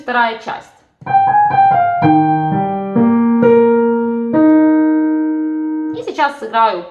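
A piano plays the second part of a simple melody, a short run of single sustained notes stepping downward, with a voice speaking briefly just before and after.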